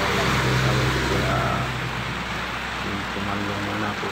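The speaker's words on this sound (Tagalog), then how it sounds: "Ang lakas ng ulan." Heavy, sudden rain pours down in a steady broadband roar, likely drumming on a vehicle, with a low engine hum underneath throughout.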